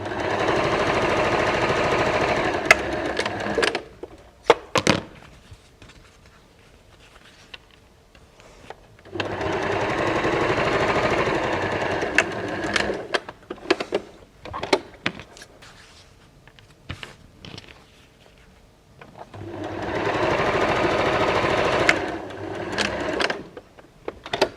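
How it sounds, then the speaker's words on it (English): A sewing machine joins rows of hexagon patchwork in three long, close bursts of rapid stitching, separated by pauses filled with handling clicks and rustles. "I'm just going to sew these rows together in the same way"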